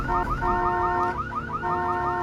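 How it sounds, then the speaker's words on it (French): A loud car alarm, set off by a door opening, blaring nearby, its electronic siren warbling in rapid repeating sweeps without pause. "lorsqu'il ouvre une portière, l'alarme se déclenche"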